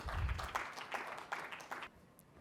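Faint, distant audience applause at an education summit comes in a few uneven bursts of clapping that thin out and fade toward the end.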